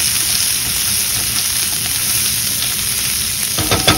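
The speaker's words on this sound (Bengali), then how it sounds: "তেলের মধ্যে কালো জিরে ফোড়ন দিয়েছি, লঙ্কা ফোড়ন দিয়েছি, তারপর পেঁয়াজ দিলাম।" Onions frying in hot oil with nigella seeds and chillies give a loud, steady sizzle that hisses continuously, with a few clattering stirs near the end.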